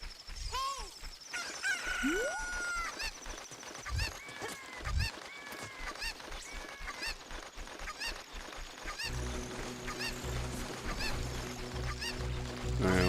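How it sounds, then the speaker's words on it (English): Chicken clucking and crowing calls in Zelda: Ocarina of Time 3D, repeated bird squawks over game music and effects, with a rising synth tone near the end. "Chicken!"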